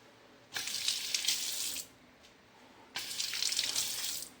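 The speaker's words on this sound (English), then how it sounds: "Water! We got water." Two bursts of running water from a tap being collected, each a faint hiss and splash lasting about a second or more, with a quiet pause between them.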